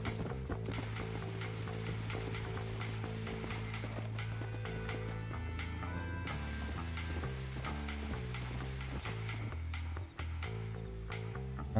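Horse hooves clip-clop steadily in the Red Dead Redemption video game, set against a dense, loud music and ambient soundtrack that fills the whole stretch.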